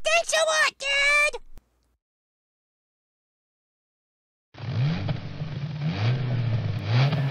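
A cartoon car engine revs up in a loud, steady roar with rising and falling pitch, following a few spoken words and a pause of silence.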